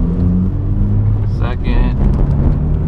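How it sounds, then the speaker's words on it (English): A manual-transmission car's engine rumbles low and steady while pulling away in first gear, with a person talking over it. "Okay, clutch in, first gear, taking off now."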